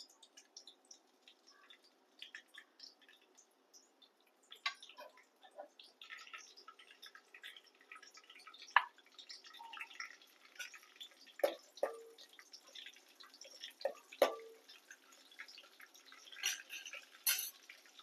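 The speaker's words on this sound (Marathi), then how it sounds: "चांगल्या मिरच्या तडतडल्या" Slit green chillies crackle in hot tempering oil with cumin, cardamom and bay leaf: faint scattered pops and sharp snaps, growing busier toward the end, with no talking.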